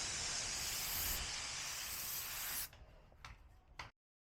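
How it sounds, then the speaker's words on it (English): A spray gun hisses fade-out thinners onto the repaired paint of an Audi Q3 door, one loud continuous spray for over two seconds, then three short sharp bursts before silence. "A quick squirt of fade out thinners to melt that blend into the old paint."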